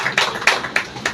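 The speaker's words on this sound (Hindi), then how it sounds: "हमारे लिए ताली होनी चाहिए" Audience clapping at a DXN product training session: four or five short, sharp bursts of hand claps at a brisk rhythm, close and fairly loud, with no talking over them.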